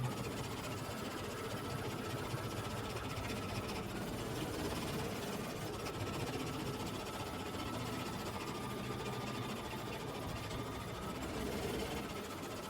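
An embroidery machine stitches a flower in bead stitch, a faint, fast, steady mechanical whir and clatter running on without pause.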